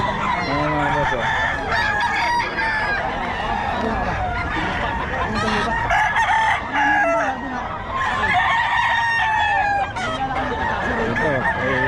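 Several roosters crow loudly and repeatedly at a rooster market in Bocaue, overlapping one another amid clucking and a busy crowd chattering in the background.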